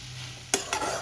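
Chopped onions are tipped into a pan of frying potato and capsicum and stirred, giving two quick scraping stirs over a soft, steady sizzle, with no talking.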